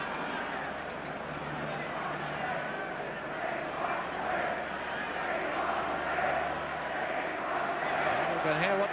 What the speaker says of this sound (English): You can hear what the crowd want.